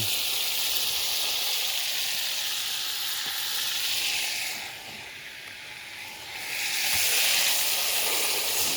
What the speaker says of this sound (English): Gonna get this in here and brown it up.